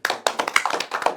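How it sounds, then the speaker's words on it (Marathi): A small group claps together briefly, quick uneven hand claps close by at a comedy event, loud and alone. "टाळ्या वाजवा रे."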